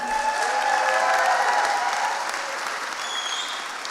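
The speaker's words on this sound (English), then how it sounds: "Can we get another round of applause for him?" Applause from an audience at a Horror Game Awards livestream, a steady wash of clapping at moderate loudness that tapers slightly toward the end, with no talk over it.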